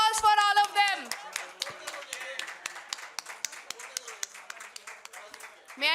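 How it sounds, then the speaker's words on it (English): Audience clapping for members of a foundation, starting with a voice over the first hands, then settling into sparse, scattered individual claps that thin out before a final burst at the end. "A big round of applause for all of them."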